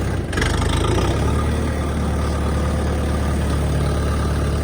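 A Kentavr DV tractor engine runs steadily at close range, a low, continuous diesel rumble and idle that holds even throughout, with a brief clunk near the start as gears are shifted.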